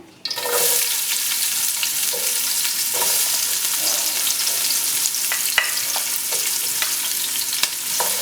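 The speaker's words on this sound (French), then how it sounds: "Nous allons faire revenir dans l'huile avec nos légumes" Onions with cucumber, zucchini and eggplant sizzle loudly in hot oil for a tofu ratatouille, a steady frying hiss broken by occasional stirring scrapes and pops.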